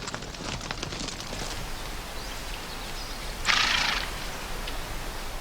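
Horses travelling along a mountain trail in the American West, soft scattered hoof and tack sounds over outdoor ambience, with a brief louder rustle or snort midway.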